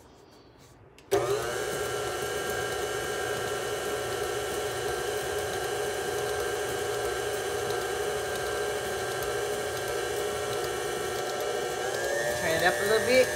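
An electric hand mixer starts abruptly and runs steadily, whirring as it beats cream cheese pound cake batter with Sprite, holding a constant drone with a slight change near the end.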